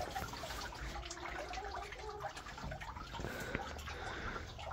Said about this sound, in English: Water's overflowing.